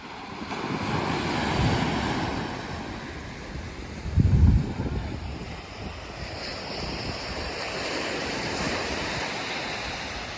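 Surf at Pantrangam beach beside the lighthouse, a steady broad wash of breaking waves with wind buffeting the microphone, one louder crash of surf midway, continuous throughout with no talking.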